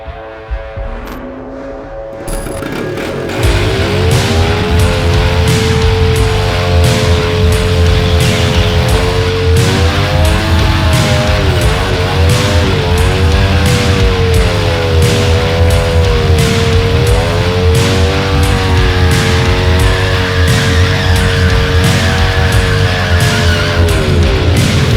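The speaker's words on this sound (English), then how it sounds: "With the obligatory burnout complete" A Honda XR100 motorcycle roars into a sustained burnout after a brief quiet start, engine revving hard with wavering pitch and tire squeal, loud and close for over twenty seconds.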